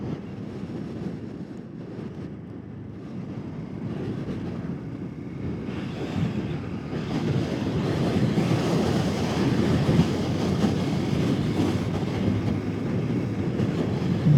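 Strong wind on a mountain road in the middle of the island of Madeira buffets the microphone in a constant low roar that grows louder partway through, with no voices heard.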